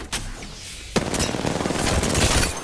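Dense, sustained gunfire from enemies shooting at the player in a shooter game, a heavy sharp onset followed by continuous overlapping bursts that stay loud throughout, with no talk.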